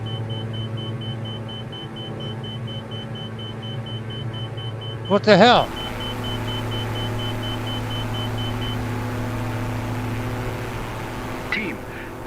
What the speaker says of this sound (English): That's got to be our stall warning.